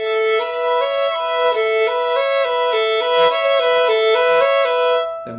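A violin plays a hand-shape exercise, short groups of clean bowed notes stepping up and down in a small repeating pattern, steady and close with a sustained tone and no voice over it.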